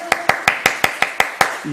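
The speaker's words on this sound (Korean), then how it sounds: "박수 한번 쳐줍시다." Church congregation clapping in a steady, even rhythm, eight sharp claps spaced about a fifth of a second apart, fairly close and loud, with a voice briefly heard near the end.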